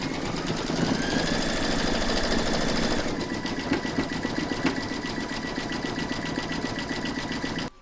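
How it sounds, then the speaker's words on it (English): Embroidery machine stitching round 7 of an in-the-hoop appliqué bell: fast, steady mechanical needle chatter that runs continuously close up, shifting rhythm slightly partway through, then stopping abruptly at the end. "Load whatever colour you want for the ringer into your machine, and then you're going to stitch round number 7"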